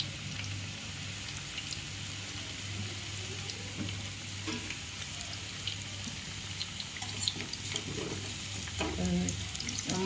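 Onion pakoda frying in hot oil gives a steady, soft sizzle and crackle throughout, with faint stirring and a low background hum, no voices.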